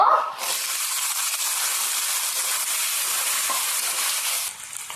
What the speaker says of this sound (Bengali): হালকা ভাজা হয়ে গেছে বুটটা